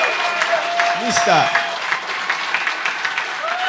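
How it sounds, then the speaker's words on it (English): Audience applause at a press announcement for a new professional soccer coach, steady clapping with a voice briefly speaking over it. "Big round of applause for Atletico Ottawa's new coach"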